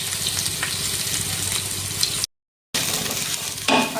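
Squeezed soya chunks fry and get stirred in hot oil in a pan, a close, steady crackling sizzle with a short break of silence partway through and no voices.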